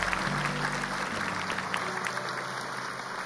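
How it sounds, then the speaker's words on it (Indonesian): Studio audience on an Indonesian television talk show claps for a guest, a moderately loud burst of applause that slowly fades, with a voice faintly audible under it. "Tepuk tangan buat bapak."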